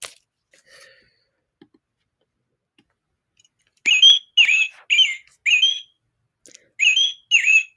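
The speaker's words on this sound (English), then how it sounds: "Overhead one, no two birds chirp. And here's the robin." A storybook toy plays a robin chirping effect: a quiet lead-in with a couple of faint clicks, then six bright, clear chirps in quick succession, close and loud with no talking.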